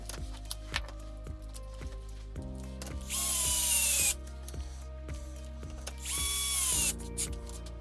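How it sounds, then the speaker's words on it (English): A large-handled screwdriver drives screws into the swing arm of an Associated MT8 RPM RC car, giving close, repeated clicking and ratcheting mechanical sounds with two louder, sustained whirring bursts, and no talking. "this is a pretty big screwdriver unit here, so it gives you a lot more control and torque ability"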